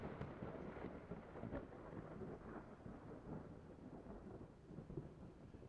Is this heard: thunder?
yes